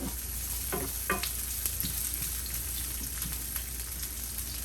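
Turkey sausage with peppers and onions sizzles in a pan at a moderate level, with a few scraping stirs and clinks of a utensil over a continuous frying hiss.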